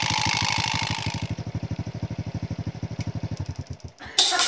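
A motorcycle engine idles with a steady, rapid putter, loud and close, then briefly cuts out before a sharp burst of noise at the end.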